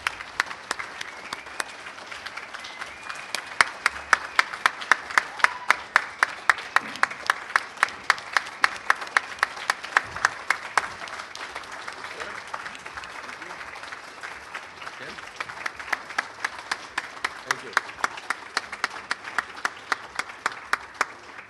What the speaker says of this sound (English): your first round of applause for Tom Marcucci